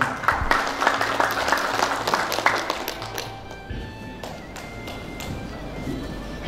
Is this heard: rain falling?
no